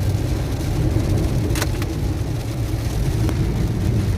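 A car drives through rain on a road in Bihar, with a steady low engine rumble and road noise alongside a continuous hiss of rain, plus a couple of brief sharp ticks, and no talking.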